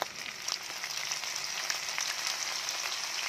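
String beans sauté with ground meat, onion and garlic in a hot pan, giving a steady, close sizzle with frequent small crackles and no talking.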